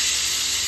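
A pressure cooker with tomatoes inside lets out a loud, close, continuous steam whistle, a sharp bright hiss that holds steady without a break through the short moment.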